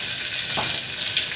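Chopped cabbage, potato, tomato and capsicum hit a hot pan with garlic while making khichdi, giving a loud, steady sizzle close up with a brief stirring scrape.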